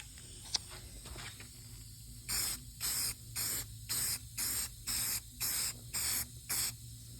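A purple Harbor Freight spray paint gun atomizes eBay car paint onto bodywork in about nine steady, evenly spaced hissing bursts, each roughly half a second long, close and loud over a low background hum.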